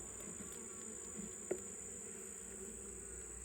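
Honey bees from a small nucleus colony hum in a steady, faint drone throughout, with a soft knock partway through.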